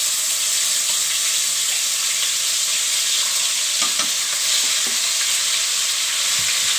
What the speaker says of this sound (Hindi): और अदरक लहसुन को तब तक ब्राउन करेंगे जब तक कि अपना कलर नहीं चेंज कर दे।